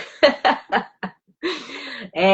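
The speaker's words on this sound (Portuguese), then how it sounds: "Agora sou eu, amiga, que vou tossir aqui." A person coughs several times in quick succession, close up, followed by a raspy drawn-out breath and another cough.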